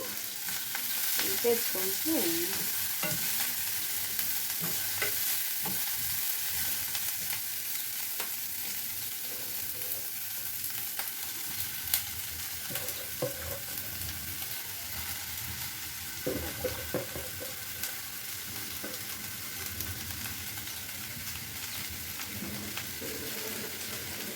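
Curry leaves fried and stirred in a pan, giving a steady soft sizzle with occasional scraping and stirring noises, close and moderately quiet throughout, no talking.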